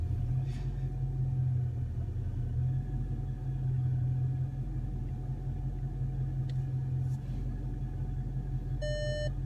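Dodge Charger R/T with a 3600 stall torque converter, a deep steady engine rumble at close range while backing out, with a faint beep near the end.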